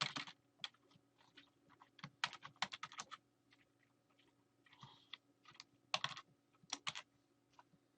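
Fingers type a password on a computer keyboard, irregular bursts of crisp key clicks, some fast runs and scattered single taps, close up in a quiet room.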